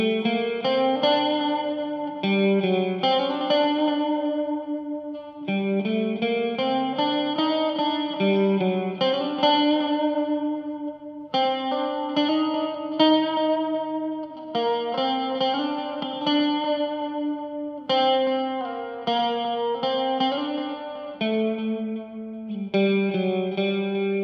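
Electric guitar played through a NUX MG-101 multi-effect pedal, a continuous sustained melodic passage with chorus and distortion effects, close and steady without talking.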